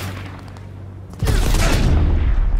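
Sniper fire in Cyberpunk 2077, a sudden loud shot cracking in about a second in, followed by a sustained rumble of gunfire and combat noise.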